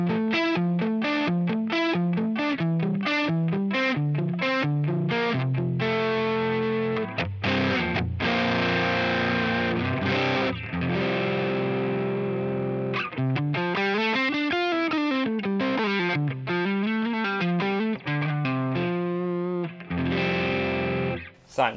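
An electric guitar played through a Rat distortion pedal, heavily distorted riffs and sustained chords playing continuously and loudly, with short pauses between phrases.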